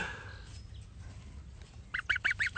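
Young geese honk in a quick run of several nasal calls near the end, following a stretch of low background rumble with little else.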